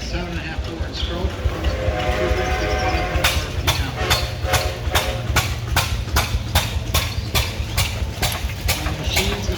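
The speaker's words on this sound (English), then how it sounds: "This engine will hit and miss ignition." A hit-and-miss stationary engine with 5 5/8 by 7.5 inch bore and stroke runs with a low, steady chug, joined partway by regular sharp firing beats, with mechanical clatter alongside, at a threshing demonstration.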